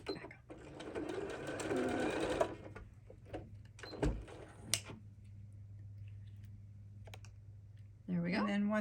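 A sewing machine stitches around the curves of a flower-petal drawstring bag, a dense steady whir for about two seconds, then brief stops and short bursts with low hum continuing, before a voice starts speaking at the end.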